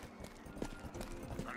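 Faint, steady clip-clop of horse hooves trotting at an even rhythm in the video game Rustler, quiet and somewhat distant, with no talking.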